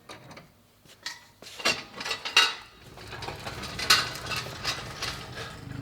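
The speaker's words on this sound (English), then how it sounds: "Slowly lower the hopper tank and place it on the machine. Secure it with the locking handle" Metallic clanks and knocks as a hopper tank is lowered onto an Egholm CR 2260 and locked in place with its handle, a series of close, irregular rattles and thumps with no voices.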